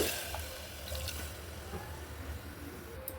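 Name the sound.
water poured into rice and lentils in a pot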